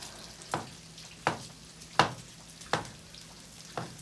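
Five evenly spaced knife strokes slice through pork sausage and knock on a cutting board beside a Blackstone griddle. Each sharp cut stands apart from the others, with a faint sizzle running underneath.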